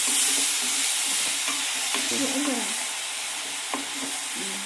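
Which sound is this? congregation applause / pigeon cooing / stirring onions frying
stirring onions frying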